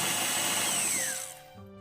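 Electric mixer whirring through saffron milk cake batter with vanilla extract, a loud steady motor drone that slows and winds down near the end, with no talking.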